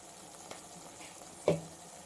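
Potatoes frying in a pan with turmeric and chili powder, a quiet, even sizzle with a faint stir click and one brief scrape near the end.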